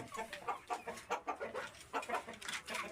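Chickens cluck in quick, uneven bursts, several birds close by, moderately loud with a busy overlapping rhythm.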